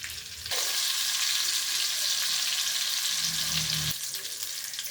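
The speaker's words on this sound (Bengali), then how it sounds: "কাবাবে বাটারের স্মেলটা ভীষণ ভালো যায়, তো একটু অল্প পরিমাণে বাটার দিয়ে দিলাম।" Chicken kebabs fry on a tawa in butter and oil, giving a loud, steady sizzle that swells abruptly and holds, with a brief low bubbling before it drops back to a softer fry.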